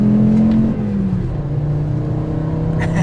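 Volkswagen five-cylinder engine from a Golf, Jetta or Rabbit revving close by, a loud steady drone that dips in pitch as the revs fall and then settles into an even idle hum.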